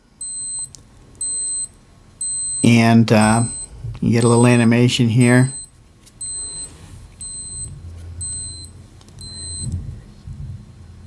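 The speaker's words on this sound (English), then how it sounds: "So when it gets to 0, the alarm sounds for 10 seconds." A Casio G-Shock Rangeman GW-9400 countdown timer alarm sounds in short, evenly spaced bursts of high beeps, paused while someone speaks briefly in the middle.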